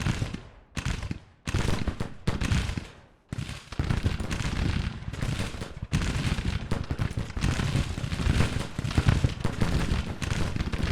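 Rapid crackling volleys of rifle and cannon fire from a Civil War battle in Grand Tactician: The Civil War, starting as separate bursts with short gaps, then merging into a dense, continuous roar of gunfire.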